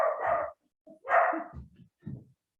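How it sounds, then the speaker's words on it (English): A dog barks in the background during an online talk on organic agriculture, giving three loud, fairly close barks in an uneven rhythm with short gaps, followed by softer huffs. "Excuse the dog in the background."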